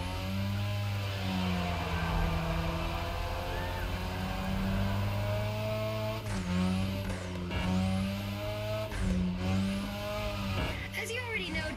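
A car drifts around the Drift Track in The Crew Motorfest, its engine holding a sustained droning roar with shifting revs and sharp tonal sweeps, steady and loud from start to finish.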